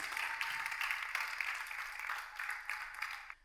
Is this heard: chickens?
no